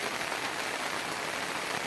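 Steady rain falls over Konkan farm fields after the planting work, a dense, continuous hiss of drops close by and fairly loud, running on alone without any voices.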